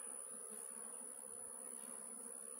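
Honey bees buzzing steadily and closely as they are shaken off a hive's inner cover, a continuous droning hum with no pauses.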